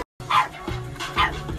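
A new puppy gives a few short, close barks and yips in quick succession, fairly soft, with no talk over them.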